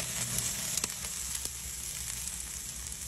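A salted tomahawk steak sizzles steadily on a grill, a close, even frying hiss with a few faint pops and no talking.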